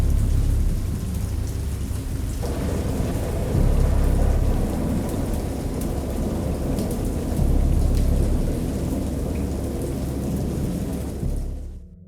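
A thunderstorm from the video game Dagon: steady, heavy rain hisses on surfaces while deep rolls of thunder swell and fade underneath, with no voices.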